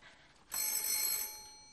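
A telephone bell rings in an apartment, one sustained metallic ring starting sharply and fading out, close and clear with no talk over it.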